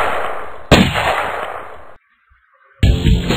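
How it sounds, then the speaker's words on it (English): Two loud, sharp sniper rifle shots ring out in a video game, each followed by a sustained roar of echo, with a brief near-silence between them. "One heck of a sniper rifle."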